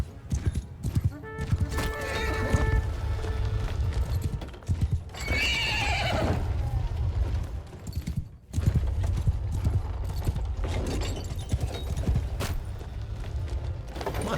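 Horse hooves in Mount & Blade 2: Bannerlord, repeated clip-clop steps with whinnies and some creaking mechanisms, loud and busy against a dense game soundscape, with a brief pause midway.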